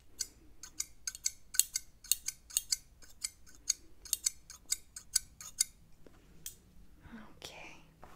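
Close, crisp snips of scissors trimming slightly dry hair ends at the front section during a haircut, a quick run of sharp clicks in steady rhythm with soft whispered talk in the background.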